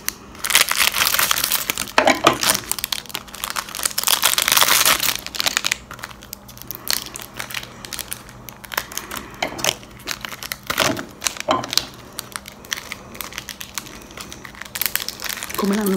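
Foil wrapping is torn and crinkled off a Galak Easter egg, close and loud. Dense crackling and rustling comes in irregular bursts with a few sharper rips along the way.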